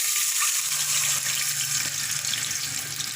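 Water is poured in a steady rush into a pan of hot oil with cumin seeds for cumin rice, a loud continuous splashing hiss close by that eases slightly toward the end.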